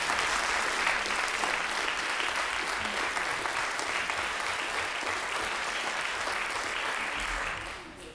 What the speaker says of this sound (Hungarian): Egy nagy tapsot köszönet.